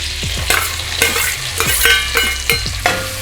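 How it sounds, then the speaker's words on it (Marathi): Cumin and chopped onion frying in melted fat in a pan for hotel-style pav bhaji, loud close sizzling broken by regular spatula scrapes about every half second. "कांदा आपल्याला व्यवस्थित लालसर होईपर्यंत परतून घ्यायचा आहे"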